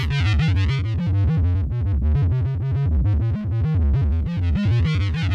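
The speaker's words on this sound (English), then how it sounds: "So we can kind of use that as like a filter sound right there" Bass guitar played through a Keeley effects pedal set to a filtered, distorted tone, a continuous riff of sweeping, throbbing notes that are loud and close, with no voices.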